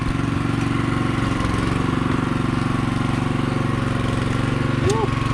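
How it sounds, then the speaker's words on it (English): A concrete mixer churns steadily in the background at a gate-installation site, where posts are set in deep holes, giving a continuous mechanical rumble and drone that holds without a break from start to finish. "You can hear the mixer in the background."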